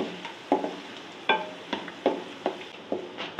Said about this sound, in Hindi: थोड़ा सा प्याज फ्राई करना है पहले। और देखिए बस, हल्की आंच पे प्याज ब्राउन करना है।